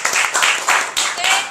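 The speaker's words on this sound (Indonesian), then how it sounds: "Tepuk tangan untuk semua." Students in a classroom give a short burst of clapping after a group presentation, a few quick rounds of hand claps close by, mixed with voices talking over them.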